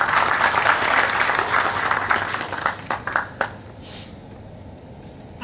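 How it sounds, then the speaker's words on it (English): Audience applause at a school parent orientation event, a dense wash of clapping from many hands that thins into scattered individual claps and fades toward silence. "So let's clap for our children."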